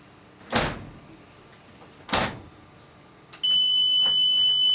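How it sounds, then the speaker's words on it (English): A school bus roof hatch thuds twice as it is worked, then its alarm starts a steady, piercing electronic tone that continues to the end. "And the alarm works and it opens."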